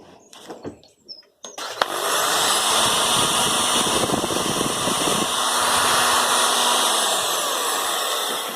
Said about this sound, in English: that's plugged in to this Bosch drill